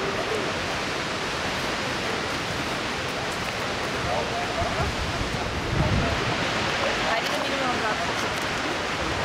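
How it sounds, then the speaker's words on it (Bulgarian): A waterfall in Iceland pours with a dense, loud, steady rushing hiss heard close by, and voices talk briefly beneath the noise. "Сега ще отиваме зад водопада."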